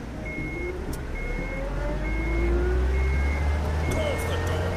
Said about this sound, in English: I have to jump out before the truck drives off.